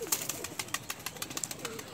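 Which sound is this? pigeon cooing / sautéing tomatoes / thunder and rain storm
pigeon cooing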